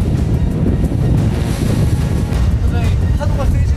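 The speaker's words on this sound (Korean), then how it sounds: "점점 더 거세지는 파도." Rough, worsening seas pound around a small fishing boat hauling for skate off Heuksando, giving a constant loud roar of surf and wind buffeting the microphone throughout, with no talking.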